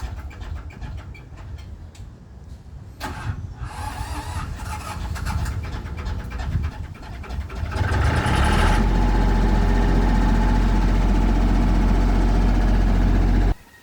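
A generator engine runs steadily during a test run, a rough, loud mechanical drone with clattering, which swells into a heavier, louder roar partway through and then holds steady until it cuts off abruptly at the end.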